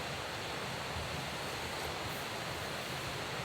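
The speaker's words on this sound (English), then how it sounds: "just enjoy the ambience of the fire and the trickling stream noises" Steady trickling stream at a rainy solo tent campsite beside a campfire, a dense, continuous rushing wash of water that stays even and close throughout, with no voices.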